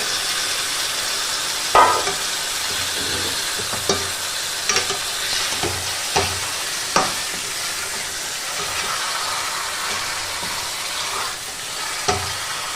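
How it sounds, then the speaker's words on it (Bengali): Chicken pieces frying in oil with well-browned onions for Kolkata chicken biryani give a steady sizzle, with sharp spatula scrapes and knocks recurring every second or two as the pan is stirred. "এবার আমি সাতলে রাখা চিকেনগুলো এক এক করে এর মধ্যে দিয়ে দেব আর ভালো করে কষিয়ে নেব"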